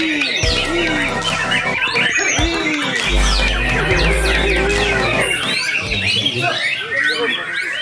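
A white-rumped shama, a murai batu songbird, sings a rapid run of varied whistles and chirps, loud and close, over a low rumbling background noise.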